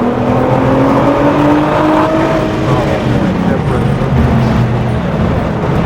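Supercar engine on a track at Charlotte Motor Speedway, droning steadily and loud with a rising, climbing pitch as the throttle is fed in; a voice talks over it throughout.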